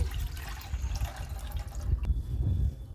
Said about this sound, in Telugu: పాలు కాగపెడతానికి పోస్తున్నాను